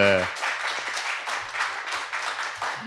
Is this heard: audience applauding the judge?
yes